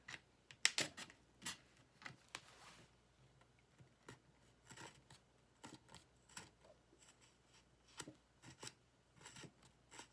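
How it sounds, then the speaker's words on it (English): A blade scrapes along a Gibson Les Paul guitar neck during a carbon fiber headstock repair, giving quiet, intermittent bursts of dry scraping with short pauses between strokes, close up and alone. "Use it to cut as well as scrape."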